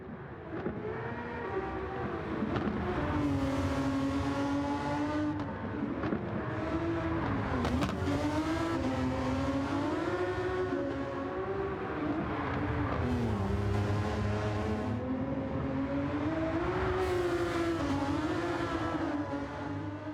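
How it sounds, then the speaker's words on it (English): Ferrari FXX-K racing in Gran Turismo 7 screams through rising and falling revs over a long, continuous stretch, the engine loud and steady with repeated shifts and no talking. "I'm gonna just be quiet for a little bit and let you listen to the engine"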